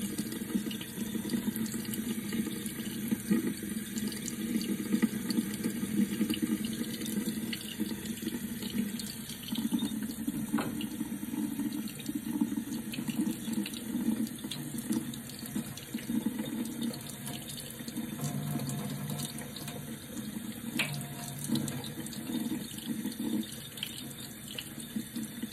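Warm water runs from a tap into a pet's bath as a continuous, steady splashing stream with no pauses and no voices.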